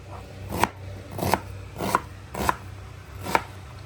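Onions, potatoes and tomatoes being chopped on a board, five distinct knife strikes at an uneven, unhurried pace, close and moderately quiet, with no talking.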